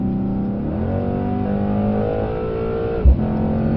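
Mercedes C63 AMG engine accelerating on the Brooklands track, a loud close in-car drone climbing steadily in pitch, briefly dipping at a gear change with a short thump before pulling up again.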